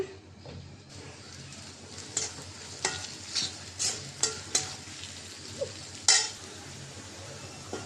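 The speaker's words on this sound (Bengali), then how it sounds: "পেঁয়াজ কুচি দিয়ে দিলাম" Chopped onion sizzling and frying in hot oil in a wok for a chicken bhuna, with a steady crackling hiss and a series of sharp scraping stirs and utensil knocks, fairly close.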